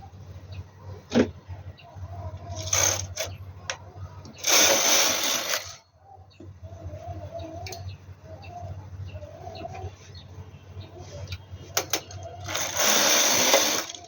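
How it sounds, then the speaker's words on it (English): A knitting machine knits rows of an adult V-neck sweater at tension 7, its carriage making two long loud whirring passes a few seconds apart over a steady low hum, with faint clicks and light ambient noise between the passes. "I'm going to change my tension to 7 and knit 2 rows right now"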